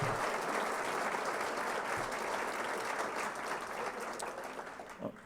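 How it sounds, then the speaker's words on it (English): A room of guests at a university athletics scholarship celebration gives a sustained round of applause for student athletes and coaches, dense and steady, tapering slightly toward the end. "Round of applause for our student athletes and coaches in the room for all their wonderful hard work."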